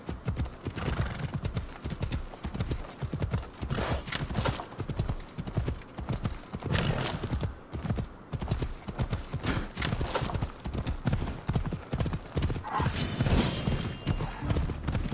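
Steady clip-clop of horse hooves on ground in Assassin's Creed Odyssey, a continuous trotting rhythm with an occasional brief whinny, close and fairly loud throughout.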